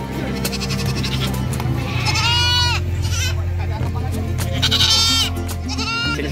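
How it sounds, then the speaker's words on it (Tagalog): Several goats bleat loudly in wavering calls over a steady low hum and background chatter at a livestock market in Malasiqui. "Maraming mga kambing."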